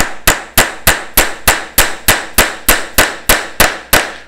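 Steady hammer blows strike about every third of a second, fourteen sharp, loud impacts in an even rhythm, each with a brief ringing decay, close by and with no talking.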